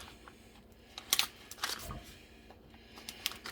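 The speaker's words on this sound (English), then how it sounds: "I'm gonna cut that half in 3s." A knife slices a halved Brussels sprout into thirds, giving a few quiet, sharp taps against the cutting board with soft kitchen rustling between them.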